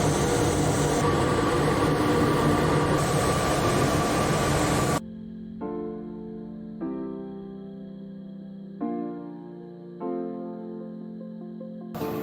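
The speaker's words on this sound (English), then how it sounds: "the noise you're hearing is probably a mixture of not only the Bitcoin miners, but also of the cooling." Rows of Bitcoin miners and their cooling fans in a mining facility make a dense, steady whooshing roar for about five seconds. The roar then cuts off abruptly, and quieter, evenly spaced tonal pulses follow.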